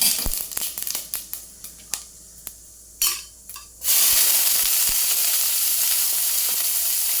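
Mustard seeds crackle and pop in hot oil with sharp scattered spits, then a loud continuous frying hiss bursts in and holds steady, close and without talk.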